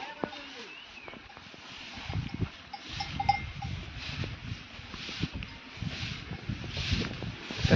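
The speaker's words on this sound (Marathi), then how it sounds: "हे बघा हे बैल" A bull in the Konkan countryside clanks the cowbell around its neck, a fairly near, irregular metallic jangle mixed with rustling movement while people talk in the background.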